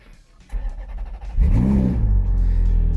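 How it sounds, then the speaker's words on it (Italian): A Ferrari 430 Scuderia fitted with an aftermarket exhaust revs sharply up from a burbling idle to a loud, rising snarl, then holds a heavy rumbling note close by. "Sentite qua, lo scarico non è assolutamente originale"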